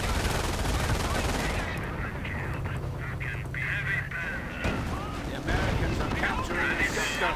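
Sustained gunfire from German troops in a tank-and-infantry video game battle, continuous crackling bursts that run through the whole stretch and blend with in-game noise, loud and dense without pause.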